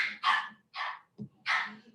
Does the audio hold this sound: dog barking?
yes